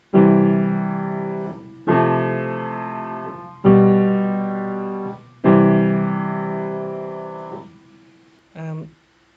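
Four sustained chords ring out one after another, each struck firmly and left to decay, followed by a brief short note at the end.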